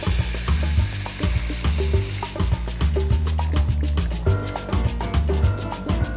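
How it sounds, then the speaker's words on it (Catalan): Chickpea and hen broth goes slowly into a hot pan of sizzling food, a loud frying hiss that drops away partway through, followed by stirring clinks and scrapes close by. "I ara és el moment de posar-li el brou, a poquet,"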